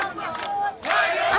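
A large crowd of refugees marching in thanks through Zaatari refugee camp, heard as a loud, close swell of massed shouting and chanting voices with a brief dip before surging again.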